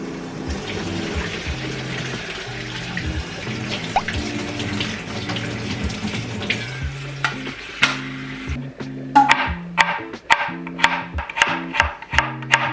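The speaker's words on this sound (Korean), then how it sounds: "달걀이 이따가 잘 깔 수 있도록 찬물에 식혀둘게요." Running water splashes steadily over boiled eggs to cool them in cold water, then gives way to a series of sharp knocks and clatters in a sink nearby.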